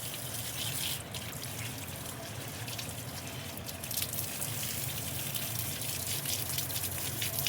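Water poured from a tap over the roots of an Adenium plant, a steady gushing splash throughout that grows fuller and louder partway through, with no talking.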